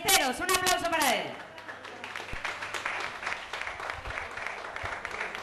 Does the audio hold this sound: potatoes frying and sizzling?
no